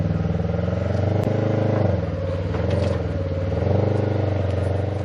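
An off-road rig on 35-inch tires with portals and a Duraclutch idles and crawls over an obstacle, its engine a steady, loud, low rumble with mild throttle swells and an occasional clunk.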